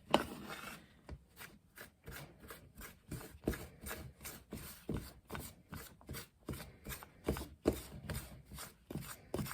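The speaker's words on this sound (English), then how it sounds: "I just use a fork. Let me stir this up a bit first." A fork scrapes and stirs through a dessert in a bowl, quiet rhythmic strokes repeating steadily and close, with no talking.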